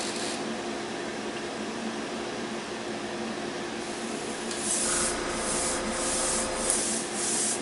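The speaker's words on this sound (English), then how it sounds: "Now I got a good flow of paint coming out there." Spray painting a model railway gun gives a steady close hiss of airbrush or spray paint, continuous throughout and growing a bit louder and brighter partway through, with no talking.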